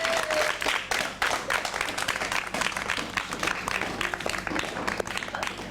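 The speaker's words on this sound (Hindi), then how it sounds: "आप लोग ज़रा तालियाँ बजा के बताइए" Studio audience at a Pakistani morning TV show clapping steadily throughout, a dense, loud wash of applause with no pauses.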